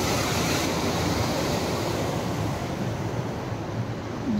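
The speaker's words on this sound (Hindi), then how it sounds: "तो देखो कि पानी साउंड टा केमती" Steady rushing water at Kesari Kund by the Baitarani River, a continuous broadband roar close to the microphone with some wind buffeting and no talking.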